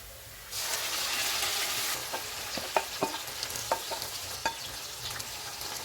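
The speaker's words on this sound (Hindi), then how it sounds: "प्याज फ्राई हो गए हैं, इसमें मैरिनेटेड चिकन डालेंगे।" Marinated chicken going into fried onions for dahi chicken: a loud sizzle bursts up, then continues under scattered sharp spatula clacks as the pan is stirred.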